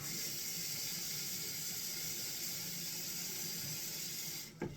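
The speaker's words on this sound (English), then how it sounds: "And we're going to go in with water." Tap water runs in a steady hissing stream into a homemade mouthwash mix with a dab of sea salt, close and continuous, then cuts off abruptly at the end.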